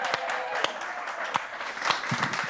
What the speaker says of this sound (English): Wow, an extra clap.